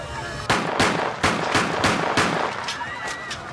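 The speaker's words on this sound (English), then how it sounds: "He pulls out his gun and unleashes 6 shots." Six loud gunshots from a handgun ring out in a quick, evenly spaced volley, each a sharp crack with a short echo, the last few slightly fainter.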